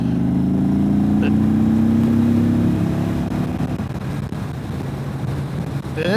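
A 2022 Indian Chief motorcycle pulls away on a group ride, its engine note climbing steadily as it accelerates, then settling into a rougher rumble with wind buffeting the microphone.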